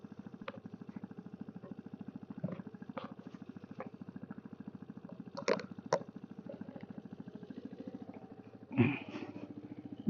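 A motorcycle engine idles or runs steadily at low pitch, throbbing evenly throughout, with a few sharp clanks and knocks over it. No one speaks.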